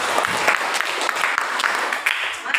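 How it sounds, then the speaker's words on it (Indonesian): Classroom applause for children, a steady burst of clapping from a group of students filling the whole stretch, with faint voices mixed in. "Tepuk tangan buat anak-anak itu."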